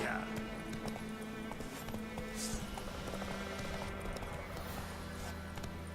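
A horse galloping in the Witcher 3 video game, with quick, rhythmic clip-clopping hoofbeats under layered game ambience, alongside a game voice.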